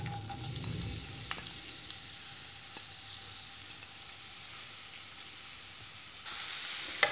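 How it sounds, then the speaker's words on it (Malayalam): Sliced onions frying in oil in a pan give a soft, low sizzle with a few faint taps of a spoon, growing louder and brighter in a burst near the end. "ഈ സവാള ഇട്ടിട്ട് നല്ല പോലെ ഒന്ന് ഫ്രൈ ചെയ്ത് മാറ്റാം"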